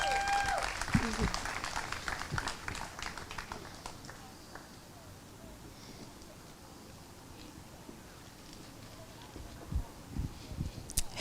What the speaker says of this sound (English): Can we give our students another round of applause